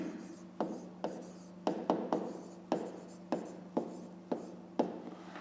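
A pen writing a math equation by hand on paper for a fifth-grade exercise: rhythmic scratchy strokes with sharp starts, close and clear over a low steady hum, no speech.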